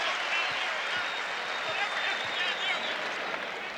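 Basketball arena crowd at a 1992 Celtics vs Trail Blazers NBA game, a steady loud roar of voices and some clapping filling the whole moment, with no clear speech over it.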